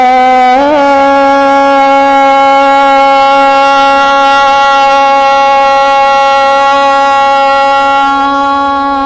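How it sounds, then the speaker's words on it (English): A yoga class at Mystic Fitness Yoga Studio chants Om together in one long, loud, sustained voiced tone that holds steady and fades slightly at the end. "our voices in the sound of Om"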